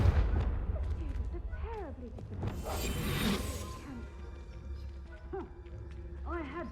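Confringo blasting curse explosion in Hogwarts Legacy, a booming game blast around the middle with a bright burst of debris, set among background music and a voice speaking over it.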